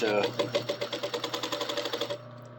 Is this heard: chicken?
no